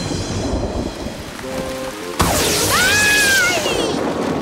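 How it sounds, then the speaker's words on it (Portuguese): A cartoon thunderstorm: steady rain hiss, then a sudden loud thunderclap crashes in and rain keeps pouring heavily, with a brief whistling cartoon sound effect over it. "Tempestade."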